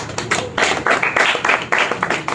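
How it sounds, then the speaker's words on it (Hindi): Audience applause at a Bhagavad Gita class, with a dense burst of clapping that swells and dips in uneven waves over a couple of seconds, fairly close and loud, with a faint voice underneath. "सबके लिए जोरदार तालियां।"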